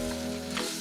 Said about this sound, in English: what's essentially going on now is it's basically simmering